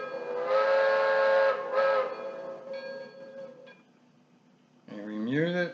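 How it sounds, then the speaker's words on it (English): A DCC sound decoder in an On30 2-6-0 steam locomotive sounds two different steam whistles: a long chime-like blast with a short second toot, then after a pause a rising, wavering whistle, close and synthetic. "Different whistles."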